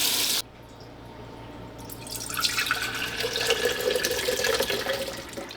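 Buttermilk drips and trickles as a lump of homemade butter is squeezed by hand, a soft liquid patter that starts quietly and then grows into a steady close splashing for several seconds, with no talking.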